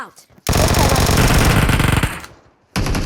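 Automatic gunfire in PUBG Mobile, a loud sustained burst of rapid shots lasting well over a second, then a short pause before another burst starts.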